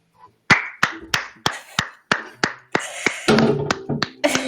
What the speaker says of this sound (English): She is clapping.